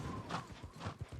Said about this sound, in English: Hear my horse literally whining to get up these hills.